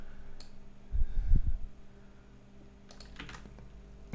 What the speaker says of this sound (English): So type in Sierra